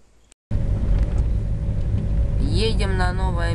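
Steady low rumble of a car driving along an old country road, recorded from inside, a continuous close drone with a faint whining tone rising near the end.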